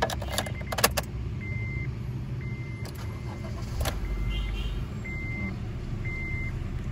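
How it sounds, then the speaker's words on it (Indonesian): A 2016 Honda Brio E CVT car starts up. Clicks and key jangles come first, then the engine turns over and settles into a low idle, while short dashboard chimes repeat at a steady pace. "kita nyalain mobilnya"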